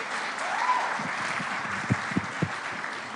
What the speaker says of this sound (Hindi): प्लीज आइए, भूमि के लिए जोरदार तालियां बजाइए।